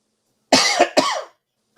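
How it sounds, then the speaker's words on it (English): Two quick, close coughs from a man in a quiet room, loud and dry, one right after the other, with silence before and after. "1 second, I got a cough."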